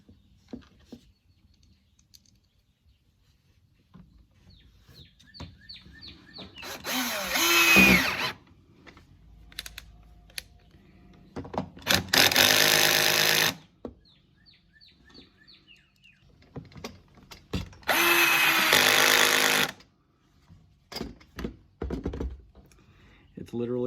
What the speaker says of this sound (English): just screw these in.